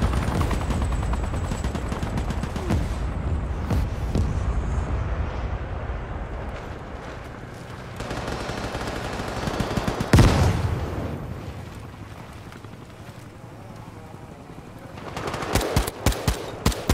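Sustained machine-gun fire and artillery rumble fill a video game battlefield, dense and loud at first, then thinning to scattered bursts, with a sharp blast near the middle and crisp shots near the end.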